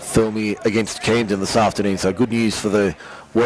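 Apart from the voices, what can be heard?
None of the usual background noises is heard.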